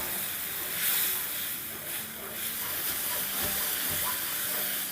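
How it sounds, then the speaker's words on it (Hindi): Masala with tomatoes fries in a pot, giving a steady, moderately loud hiss and sizzle with faint stirring scrapes throughout. "अब टमाटो के साथ 2 मिनट भून लेंगे।"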